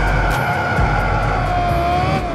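The V10 engine of a 2012 Lexus LFA supercar sounds loud and close, a sustained harmonic engine note whose pitch sags slightly over a couple of seconds, with no voices.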